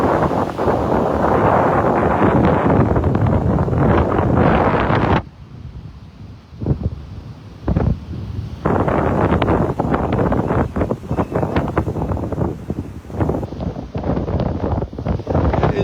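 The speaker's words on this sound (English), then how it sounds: "Breezy out here." Strong wind gusts buffet the microphone on a breezy Gulf beach at a state park in Naples, a loud continuous rumble that drops out briefly before returning.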